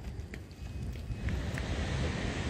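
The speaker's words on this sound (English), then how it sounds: "It's a bit windy here." Steady wind at Westward Ho! buffeting the microphone, a low rumbling roar with gusts throughout, no voices.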